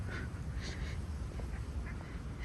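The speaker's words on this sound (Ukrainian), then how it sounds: "А ось гляньте, скільки тут качок." Ducks quack in short bright bursts at a park in Kryvyi Rih, scattered over a steady low rumble of outdoor background noise, with several calls in quick succession early and a few fainter ones later.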